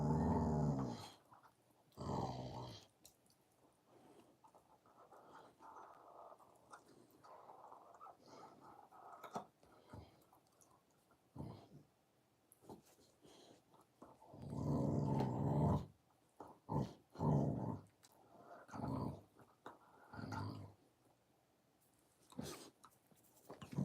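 A dog growls in low, rumbling bursts after an hour at the dog park, with quieter stretches between, then a run of louder, close growls and grunts near the end.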